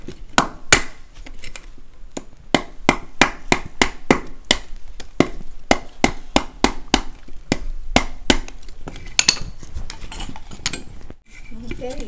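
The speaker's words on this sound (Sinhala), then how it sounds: "මුලින්ම ඇණ ගහන්න ඕනේ මේ දෙපැත්තෙන් ඒ කියන්නේ ඉදලේ අයිනටම තමයි ඇණ ගහගන්න වෙන්නේ" Nails hammered into the edge of a homemade besom broom, a close series of sharp, ringing metallic taps in irregular bursts, some quick runs and pauses, with no talk.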